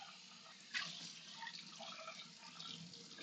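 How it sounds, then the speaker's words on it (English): Sink water runs steadily over a greasy pan during a quick rinse, a soft continuous splashing stream with one brief louder splash early on. "I just put it in the sink for a good soak, and so it's just a quick rinse."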